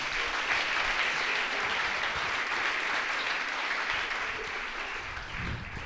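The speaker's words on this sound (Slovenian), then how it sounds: "En aplavz." Sustained audience applause at a Slovenian church evening talk about young couples, steady dense clapping from a full hall that eases slightly near the end, with no voices over it.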